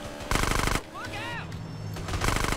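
Gunfire in the video game Grand Theft Auto San Andreas: two loud bursts of rapid shots, with a brief whistling tone and a low hum in the gap between them.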